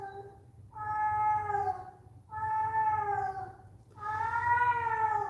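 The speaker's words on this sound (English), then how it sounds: "my cat is going nuts" A house cat meows loudly three times in long drawn-out wails, each call lasting about a second, with short pauses between and a low steady hum underneath.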